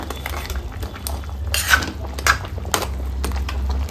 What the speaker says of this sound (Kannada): ಇವಾಗ ಹುಣಸೆ ಹಣ್ಣಿನ ರಸನ ಹಾಕ್ಕೊಳ್ಳೋಣ ಒಮ್ಮೆ ಮಿಕ್ಸ್ ಮಾಡ್ಕೊಳ್ಳೋಣ